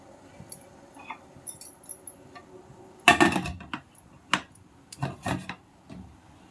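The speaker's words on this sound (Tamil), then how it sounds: "குக்கர் மூடியை வச்சு மூட போகிறேன்" A pressure cooker lid is fitted and closed while making seempaal, with scattered light clicks and then a loud metallic clank followed by a few sharper knocks and rattles, close by and with no talking.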